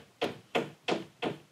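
Four sharp taps, evenly spaced about a third of a second apart, as a small plastic anchor is knocked into drywall; close and fairly quiet.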